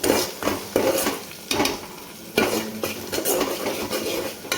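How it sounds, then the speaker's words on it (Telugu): Onions with salt and turmeric stirred in a pan for a Telugu broad bean and tomato curry, with repeated loud metallic scrapes and clanks of a spoon over a light sizzle. "ఇప్పుడు దీంట్లోకి టేస్ట్కి తగ్గ సాల్ట్, పసుపు వేసుకొని ఒకసారి మళ్ళీ ఇదంతా కలుపుకోవాలి"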